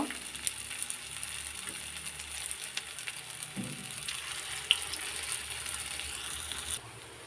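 Banana blossom fritters frying in hot oil, giving a steady, even sizzle and crackle throughout with a few faint clicks on top.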